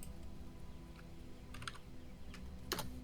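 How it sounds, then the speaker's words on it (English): Computer keyboard typing during a Dungeons & Dragons tabletop session, a soft, steady run of keystrokes with a few sharper clustered taps, fairly close and alone without talk. "I'm just typing this up."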